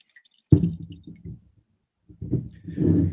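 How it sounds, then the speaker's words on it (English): Whiskey poured heavily into a glass: a sudden splashing gush that trickles and drips away, then a second, fuller pour close up, with no talk. "Good heavy pour."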